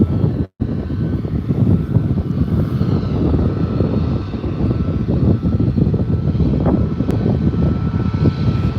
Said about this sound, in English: About 2 minutes out on this Ryanair 737 from Budapest.